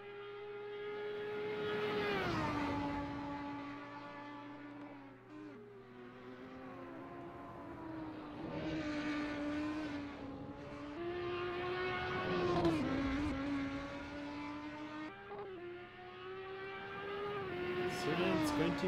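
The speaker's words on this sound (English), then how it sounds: "Let's see what he can do with that mixed racing Audi R8." A mixed racing Audi R8 race car at Road Atlanta in a sim racing game, engine droning and rising through gears with sharp shifts, running steadily under a commentator's voice.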